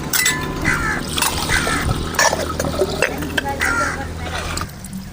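Water from a pot pours into a cooking pan set on a stove while making betel leaf rasam, a steady splashing, trickling flow close by, with a voice speaking intermittently over it.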